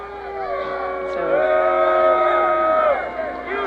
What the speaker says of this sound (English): hear the crowd booing.